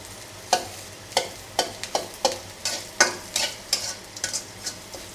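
Onions and panch phoron spices fry in a pan while a spatula stirs them, sharp rhythmic scraping strokes about twice a second over a soft close sizzle.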